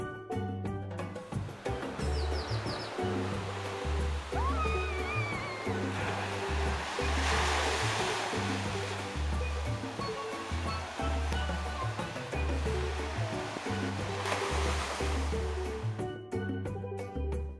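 Waves wash onto a beach in Martinique in a continuous near rush of surf, with two louder swells breaking and hissing over a low rumble.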